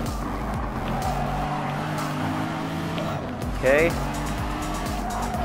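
Gr.2 GT500 race car engine in Gran Turismo Sport on the Autopolis track, a steady high drone with a brief tire squeal near the end, under someone talking.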